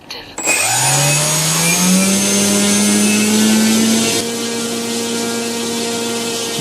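An RC motor rotor spins up on battery power under test, rising quickly to a loud, steady electric whine that holds constant and then drops slightly in level partway through.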